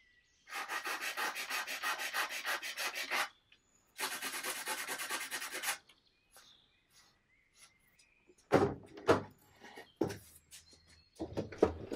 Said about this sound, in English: When the glue on the drawer repair was dry, I sanded it all